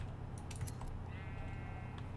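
Sheep bleating in a video game, a few short wavering calls over a steady low hum of game ambience, moderately close with no talk.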